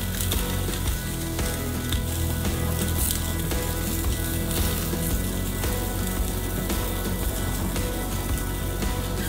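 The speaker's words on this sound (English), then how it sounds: "Bringing us to about 4 minutes on each side for searing." Steak searing on a Weber Genesis II gas grill, a dense continuous sizzle and crackle heard up close, steady throughout with no talk.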